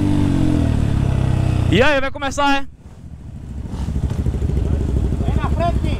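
A Honda Bros 160 motorcycle runs close by, its engine rumbling low, then revving sharply in quick bursts before it settles back into a steady idle under wind noise, with people talking briefly over it.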